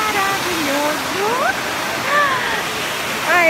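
Waterfall at Cachoeira da Saudade, a broad steady roar of falling water filling the whole clip at close range, with several people talking and exclaiming over it.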